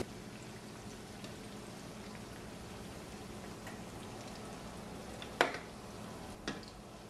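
Onion pakoda fries in hot oil, a soft continuous bubbling sizzle with a couple of sharper pops near the end.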